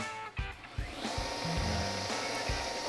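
A machine for splitting coconut shells starts up, a few short knocks and clunks giving way to a steady whirring motor hum that holds at moderate level.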